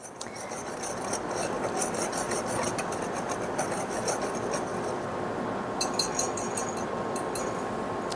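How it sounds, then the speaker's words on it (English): Salt and sugar are whisked quickly in a bowl for corn spoon bread, a steady scratchy rasping stir with light clinks against the bowl, close and moderately quiet, lasting several seconds without talk. "I'm gonna give this a real quick whisk."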